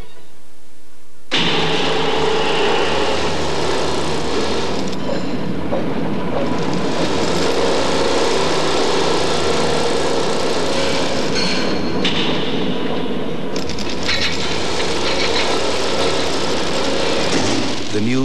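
An engine runs at speed in a 1989 TV commercial for the 16-valve Suzuki Swift. A loud, busy mechanical roar sets in abruptly and continues with brief dips, mixed with ad soundtrack.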